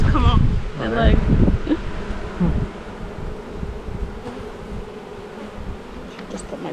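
Honeybees buzz around an open beehive during an inspection, a close, persistent droning hum under a person speaking near the start, settling into a softer steady buzz.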